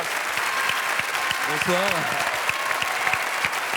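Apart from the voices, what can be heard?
audience applause for a guest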